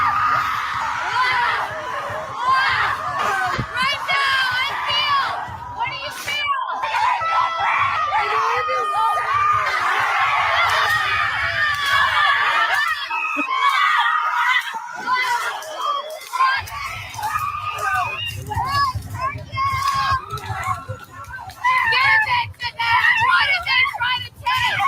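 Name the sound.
women screaming in the woods at a rage ritual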